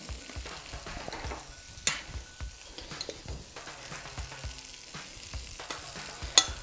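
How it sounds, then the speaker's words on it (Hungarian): Catfish fillet seasoned for a paprika dish sizzles and crackles steadily in a pan, with scattered sharper pops and stirring clicks over a low continuous fry, heard alone. "Közben megsült a halunk is,"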